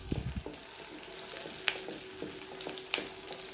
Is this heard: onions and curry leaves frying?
yes